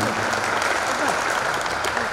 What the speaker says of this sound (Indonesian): Tepuk tangan dulu buat Pak Kadis.